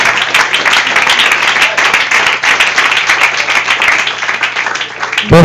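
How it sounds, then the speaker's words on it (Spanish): A congregation at a church service claps and applauds in a dense, continuous wash of hand claps that carries on steadily throughout. "El aplauso al Rey."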